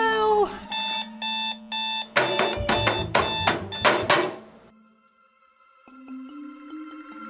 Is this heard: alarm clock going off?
yes